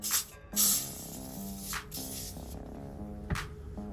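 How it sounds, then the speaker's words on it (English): Three quick hissing sprays from a spray bottle of cleaning product burst out at intervals onto a windshield over quiet background music. "let's start by spraying a little product on here."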